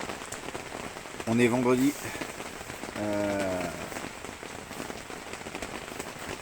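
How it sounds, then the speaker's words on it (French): Heavy rain pours steadily onto a carp fishing pond at dawn, a dense constant patter throughout, with someone speaking briefly in the middle. "Il pleut à balle."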